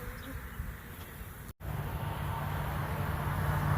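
A swarm of bees being shaken down from a ladder into a five-frame nuc box, a steady close buzzing hum broken by a brief dropout midway, then a louder, fuller drone afterward.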